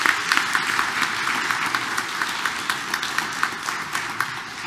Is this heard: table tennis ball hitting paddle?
no